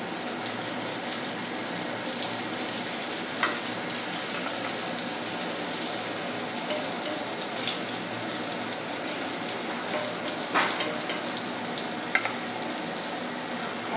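Bombay duck (bombil) fish frying in oil in a pan, a loud, even, hissing sizzle that continues steadily throughout, with a few faint clicks, close and free of speech.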